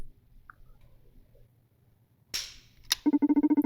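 A single sharp gunshot crack in a video game, followed by a quick clicking mechanical sound and a rapid series of regular ticks, heard alone against quiet background.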